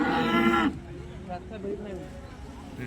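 A horned cow at a cattle market lets out a loud, deep moo at the start, followed by quieter background murmurs.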